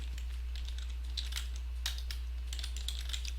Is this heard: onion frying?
no